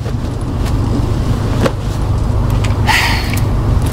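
A car drives in the video game Devil May Cry 5, giving a steady, loud engine rumble close by with a few brief clanks and knocks mixed in.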